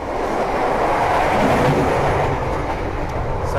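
A KA Ranggajati business-class train pulls out of Klaten station, heard from inside the carriage as a steady, loud rolling rumble and hiss of wheels on track, with no voices.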